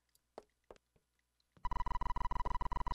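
A telephone in the Roblox horror game Light Bulb: a few faint clicks and footsteps, then a loud electronic ringtone of rapid repeated pulses that starts abruptly and carries on to the end.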